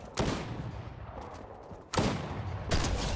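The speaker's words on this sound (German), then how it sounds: "Jetzt wird die vom Boss angeschossen." Bursts of gunfire from a boss in Fortnite, three sharp loud volleys at the start, middle and end, close and dense with rattling tails, nearly free of talk.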